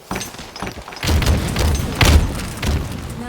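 Grenade blasts in the multiplayer shooter Halo Infinite: a few deep booming thuds with rumbling tails, the heaviest around the middle, over low background game noise.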